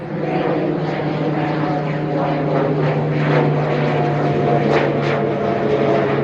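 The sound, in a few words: airplane flying overhead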